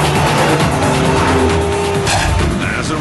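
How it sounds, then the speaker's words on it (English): A VW Golf GTI W12 concept with a 6-litre 640-horsepower 12-cylinder engine roars loudly and steadily up close, with a rising tonal whine and a rough, squealing edge toward the end. "The 6-litre, 640 horsepower, 12-cylinder engine, though, that works just fine."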